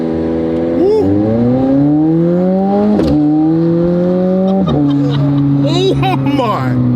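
A McLaren supercar engine revs repeatedly to around 4,500 RPM, each pull a rising whine that drops back, loud and close, with excited voices over it.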